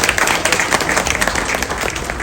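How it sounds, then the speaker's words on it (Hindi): Loud, dense applause from an audience at a Nationalist Congress Party foundation day political rally, steady clapping filling the whole stretch with a few sharper peaks. "एक जोरदार तालियां बजाई जाए"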